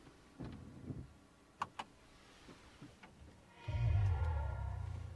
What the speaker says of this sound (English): So you get this electric startup sound like in other hybrid AMGs